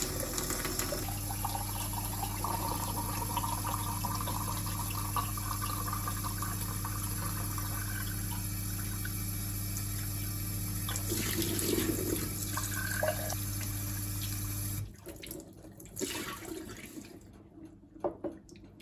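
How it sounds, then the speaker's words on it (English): Water runs steadily from a Grohe Blue Home chiller and carbonator tap for a long stretch, a constant rushing flow that cuts off near the end, leaving faint drips and clatter. "And let the water out for 2 minutes."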